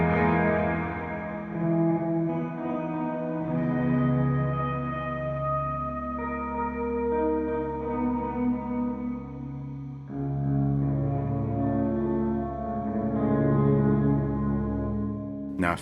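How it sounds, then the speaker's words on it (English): An electric guitar plays sustained chords through a heavily effected Softube Amp Room software amp simulator tone, washed in lush reverb and chorus, with no voices. "This reverb is really cool."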